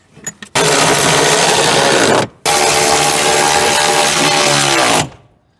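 A power tool bolts a part into a vehicle under repair: two loud, close bursts of whirring, one about one and a half seconds and a longer one about two and a half seconds, separated by a brief pause, with no talking.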